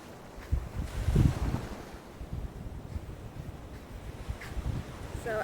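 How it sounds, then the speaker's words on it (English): Ocean surf washes onto a beach in Newfoundland, a steady broadband roar with swells in intensity, mixed with gusty wind buffeting the microphone. "But this is a beautiful beach."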